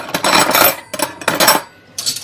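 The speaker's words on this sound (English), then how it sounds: "So I'm just gonna pop all our cutlery" Hammered-effect metal cutlery is dropped into a basic plastic cutlery tray, four quick clattering bursts of jangling metal, close and fairly loud.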